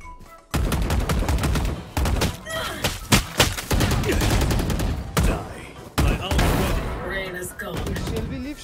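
Gunfire and explosions in a Valorant match, with loud repeated shot bursts and sharp blasts packed densely throughout, close and forceful, with game effects mixed in.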